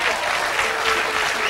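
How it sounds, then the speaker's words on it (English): A studio audience claps steadily and densely for a young quiz contestant on a local TV news show, the applause filling the whole moment without a break. "Another round of applause for young Richard"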